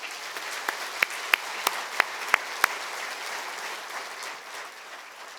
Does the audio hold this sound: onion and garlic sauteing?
no